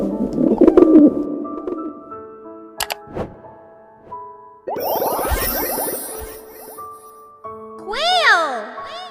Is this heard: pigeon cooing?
yes